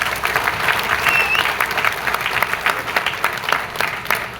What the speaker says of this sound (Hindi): जोरदार तालियां जरा एक बार बजा दीजिए